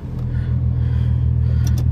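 A VR6 Jetta with a straight-pipe exhaust rumbles deep and steady from inside the car as it drives, the low drone holding constant, with no voices.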